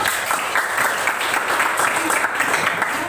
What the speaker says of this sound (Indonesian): Beri tepuk tangan buat teman ya